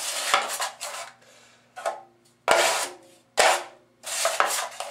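A 10-inch drywall knife scoops and scrapes joint compound mud from a pan, giving loud metallic scrapes and rasps in several separate bursts with short quiet gaps between, close up with no talking.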